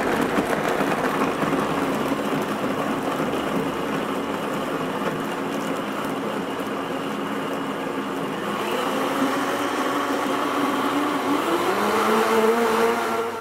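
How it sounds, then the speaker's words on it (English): A Blendtec blender runs its pre-programmed smoothie cycle, which starts low and ramps up high over 40 seconds. Its loud, steady motor whir fills the whole stretch and climbs in pitch toward the end. "Come over and you turn your blender on"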